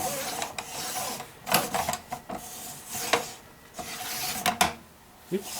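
A RUBI Speed-62 manual tile cutter scores a tile. Close scraping and rasping strokes come in several short bursts, separated by brief quieter gaps, with light clicks and no talking.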